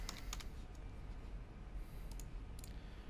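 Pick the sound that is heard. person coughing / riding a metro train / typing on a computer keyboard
typing on a computer keyboard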